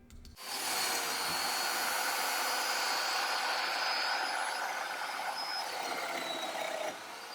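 Domino joiner plunging a narrow mortise 15 millimetres deep into a 3/4-inch wood panel, a steady high-pitched motor whine running loud and continuous for about six seconds before easing off.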